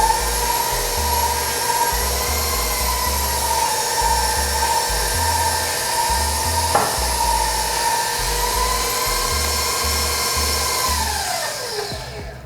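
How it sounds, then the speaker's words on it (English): An electric mixer runs steadily at medium speed, beating cake batter with a continuous whirring motor hum and a rhythmic low churning, then winds down near the end. "So I'm going to turn the mixer back on to about medium."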